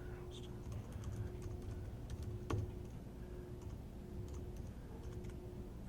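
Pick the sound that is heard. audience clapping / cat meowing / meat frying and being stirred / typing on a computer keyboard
typing on a computer keyboard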